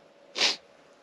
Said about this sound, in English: Was that a tough guy sniff?